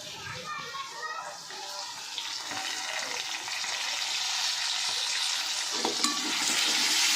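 Food sautés in a pan on a home gas stove, a steady, close sizzle and hiss that grows slightly louder over several seconds, with faint background noise.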